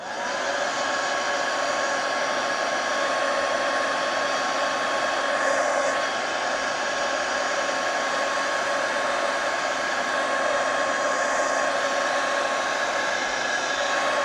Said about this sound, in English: Alright, so we got that bad boy dry.